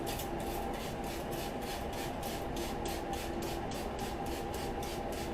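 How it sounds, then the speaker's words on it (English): Rapid, evenly spaced spritzes from a spray bottle wetting hair hiss in quick succession, close and steady, with no voices. "spray bottle, like I said, you want to wet your hair"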